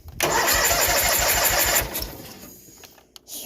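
An old tractor engine cranks briefly and catches, running with a fast rough chugging rhythm for over a second before settling to a quieter idle, close by with no talk.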